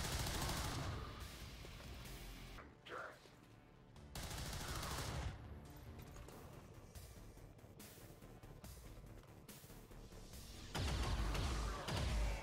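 Gunfire rings out as an enemy is shot in the video game XCOM 2, with loud sustained bursts of shots broken by a short lull and a heavier blast near the end.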